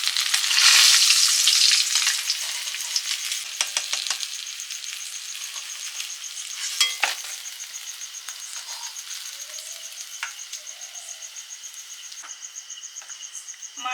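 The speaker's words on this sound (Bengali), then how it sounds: "মান কচু দিয়ে কই মাছের রান্না করছি।" Koi fish frying in a pan with taro, a strong hiss at the start that settles into steady sizzling crackle with occasional stirring clinks, close and alone without talk.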